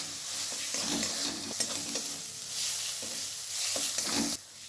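Ginger garlic paste sautéing in a pan for a prawn malai curry, a continuous close sizzle with regular stirring scrapes and soft clinks of a spatula. The sound swells and dips as the paste is worked, and no voices are heard.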